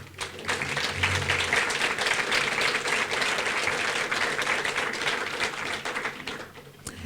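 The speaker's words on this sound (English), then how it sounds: "stand up so we can give them a round of applause" A breakfast fundraiser crowd for a Boys and Girls Club foundation breaks into steady, dense applause that holds for several seconds in a large room before tapering off.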